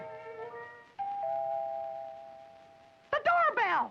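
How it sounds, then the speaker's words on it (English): A cartoon doorbell rings in an animated episode, a clear sustained chime tone held for about two seconds before a burst of lively chattering sounds cuts in. "The doorbell!"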